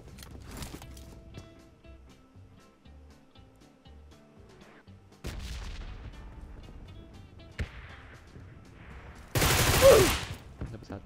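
Gunfire in a PUBG match at a new location out at sea: several sharp shots and short bursts scattered through the scene, ending in a loud, close, noisy blast, with game ambience between.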